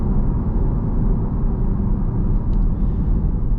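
Steady, loud low-frequency road and tire roar inside a 2021 Audi TTS at 55 mph on big wheels, a constant broadband rumble filling the cabin with no talk.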